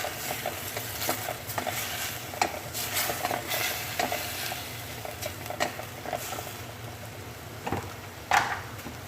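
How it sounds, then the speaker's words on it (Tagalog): A spoon stirs creamy chicken stroganoff seasoned with black pepper in a hot pan, giving repeated scraping strokes and soft clacks over a steady sizzle, close and continuous without speech. "Ayan, tapos haluin."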